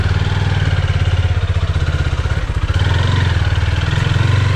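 A motorcycle engine runs steadily close by, a low throbbing drone with slight rises and dips in revs, a new bike out on the road and heard alone without any talk.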